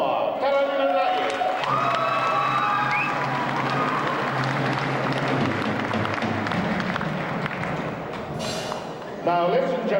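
Audience applause and cheering at the 1999 Miss South Pacific beauty pageant: a crowd claps and whoops continuously under music, with a voice speaking over the start and end.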